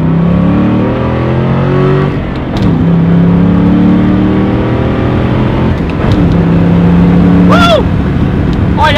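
A Ford Mustang Mach 1 pulls hard from a 30 mph roll, its V8 exhaust rising in pitch through the gears with brief dips at the shifts, loud and close from inside the cabin, with a short whoop near the end.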